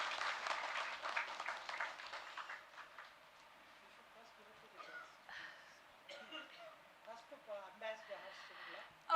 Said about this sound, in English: Please join me with a round of a big applause to honor our Madam Vice